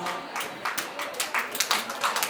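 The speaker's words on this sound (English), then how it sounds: "Please a round of applause" An audience at a Montessori school prize-giving claps in a dense patter of overlapping hands, moderately loud and sustained for a couple of seconds.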